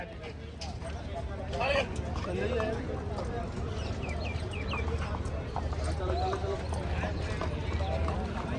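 Horse hooves clip-clop in a steady rhythm close by at a Jagraon market, with people talking over them and birds faintly in the background.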